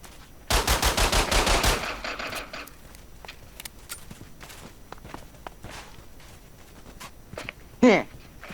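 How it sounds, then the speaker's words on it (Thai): Machine gun in a zombie video game, firing one loud rapid burst of closely spaced shots, followed by quieter scattered clicks, footstep-like taps and a short sharp game sound near the end. "นี่มึงดูของกู มันคือปืนกล"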